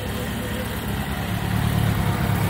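A 1983 Kawasaki Spectre 1100 motorcycle engine idles steadily at close range, a loud, even low rumble that rises slightly toward the end.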